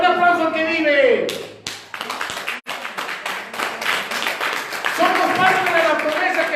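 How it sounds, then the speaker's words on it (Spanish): Church congregation claps during a sermon, rhythmic hand claps rising beneath a preacher's loud speech and cheering, fading briefly before the talking resumes over continued clapping. "Dale un aplauso al que vive."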